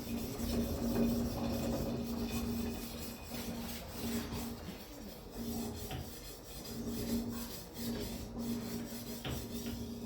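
A sharpening stone is worked across the bevel of a large paper machine knife, producing continuous close gritty rasping strokes in a steady back-and-forth rhythm, with no voices.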